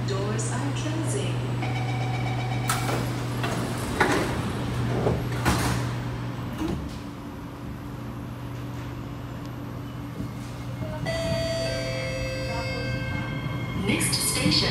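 Doors on an SMRT Kawasaki Heavy Industries & Nippon Sharyo C751B train on the North South Line slide shut with thuds and a chime, under a steady motor hum and cabin noise, with recorded announcements playing.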